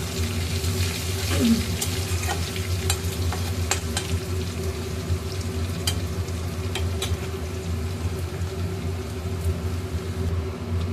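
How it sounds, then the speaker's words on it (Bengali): Garlic frying in hot oil in a pan, a steady sizzle with scraping stirring strokes throughout, close and moderately loud. "এইবারে আমি রসুন দিয়ে দেবো তেলের মধ্যে।"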